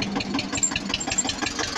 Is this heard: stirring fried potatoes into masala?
no